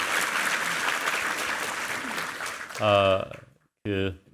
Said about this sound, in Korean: 우리 챔버 트리오에게 감사와 격려의 박수 한번 드리겠습니다